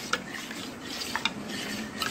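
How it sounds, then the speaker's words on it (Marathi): A spoon stirs a strained kokum and coconut milk solkadhi in a vessel, giving soft swirling liquid rubs with a few light clinks against the side, quiet and close, no voices. "पण चांगलं ढवळून घेऊया"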